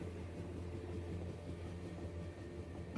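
A train running on rails gives a steady, dense rumble with a continuous low drone, loud and unbroken throughout, with no voices.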